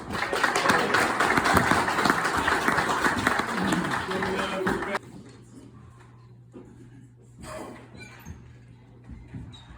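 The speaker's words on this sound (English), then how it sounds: "folks, please, a round of applause for the actors" Audience applause for the actors after a historic gunfight show at a saloon theatre in Tombstone, Arizona: dense clapping for about five seconds that stops abruptly, followed by quieter room sound and a few faint noises.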